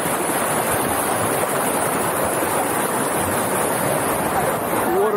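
Heavy waves surge over concrete steps on a peninsula shoreline at Warburton, a loud, continuous wash of churning water close by with no clear breaks.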